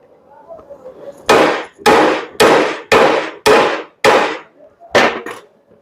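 Seven sharp, ringing hammer strikes on the kingpin of a Nissan MT3000 front axle land in a steady rhythm, loud and close, each one clanging metallically and decaying quickly.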